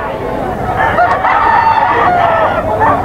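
A rooster for sale at a bustling Bocaue market crows loudly and close, one drawn-out call over a background of crowd chatter.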